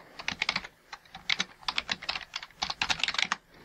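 An email address is typed on a computer keyboard in quick, uneven runs of crisp keystrokes. The clicks sound close and fairly quiet, with short pauses between bursts.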